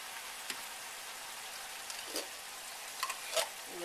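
Diced tomatoes added to sizzling sausage and onions for a lasagna meat sauce, a quiet steady sizzle with a few soft crackles and stirring taps, fairly faint and alone.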